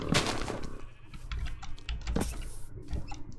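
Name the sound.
sheep bleating in video game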